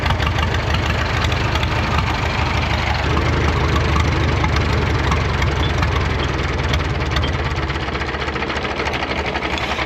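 The engine of a 1937 Caterpillar Twenty-Two crawler idles steadily and loudly nearby, a continuous low knocking chug that softens slightly toward the end.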